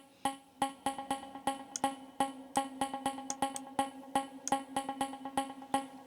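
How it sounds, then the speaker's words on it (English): Plucky vocal chop cut from an acapella and played with reverb and delay, a busy rhythmic stream of short tonal stabs whose tails blur and echo into each other, steady and moderately loud without talking. "Let me put some reverb and some delay on there."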